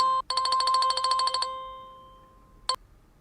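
An alarm on a website live chat system rings when a visitor messages, a bright electronic warble pulsing rapidly for about a second, trailing into a steady tone, then one brief chirp after a pause, clear and close.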